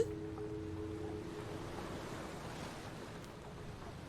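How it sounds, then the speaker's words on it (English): Ocean waves washing in the video game Umigari, a soft, steady, faint surf hiss with a low hum early on, no talk. "It was just the sound of the waves."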